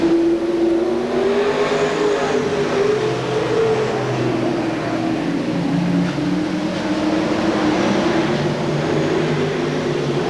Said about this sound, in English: And Mr. Buick himself, car number 12, Eddie St. Angelo.